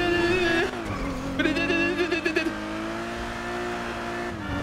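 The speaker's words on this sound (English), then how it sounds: "This car sounds crazy." A video game car engine revs loudly in the foreground, its pitch rising and wavering in quick surges, with a brief tire-squeal-like flutter in the middle and a steady drone underneath.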